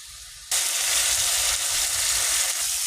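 Turmeric and chilli powder hit a hot pan with a little water and burst into a loud, close, continuous sizzle that starts abruptly and holds steady.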